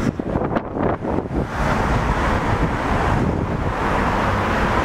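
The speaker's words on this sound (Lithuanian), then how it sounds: "Vėjas nerimsta." Strong outdoor wind gusts and buffets the microphone as a loud, continuous broadband roar, rougher in the first second and then steady to the end, with no speech.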